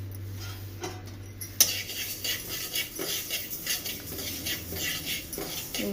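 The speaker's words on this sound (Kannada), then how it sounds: "ಇವು ಬೇಗ ಚಟಪಟ ಅಂತವೆ" Flax seeds dry-roasting in a pan give off a steady patter of light crackles and ticks, with a sharp clatter near the start and irregular stirring scrapes throughout.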